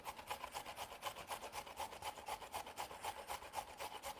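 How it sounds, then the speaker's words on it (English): Zucchini and carrot being grated by hand, a rapid regular rasping stroke repeating about four times a second, close and steady with no talking. "So you only grate the zucchini and the carrot, the rest is diced."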